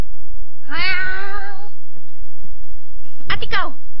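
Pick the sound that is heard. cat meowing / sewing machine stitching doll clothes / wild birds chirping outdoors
cat meowing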